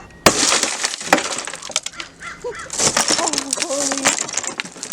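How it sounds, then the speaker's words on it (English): A Resqme emergency keychain shatters a car window: a sharp crack followed by several seconds of crunching, tinkling glass fragments, with a few faint chirping tones in between. "it'll shatter the window either from the inside of the vehicle or from the outside of the vehicle."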